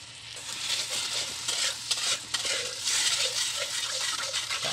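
Arnibal sugar syrup stirred in a pan for fried bananas, a steady close scraping and bubbling sizzle with soft clinks of the utensil, continuous and fairly quiet with no voices.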